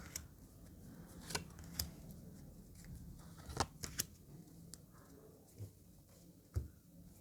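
Tarot cards being shuffled by hand: faint, soft papery riffles with a few sharper snaps spread across a quiet room.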